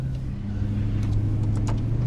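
A 2009 Maserati Quattroporte Sport GTS sedan's engine holds a steady, deep, throaty drone from inside the car during a downshift through its ZF automatic, with faint ticks and clicks above the low hum.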